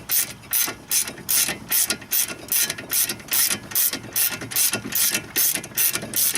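Hand ratchet working a bolt loose on a BMW E36 front brake, a run of rapid metallic clicking bursts repeating in a steady back-and-forth rhythm, close and alone.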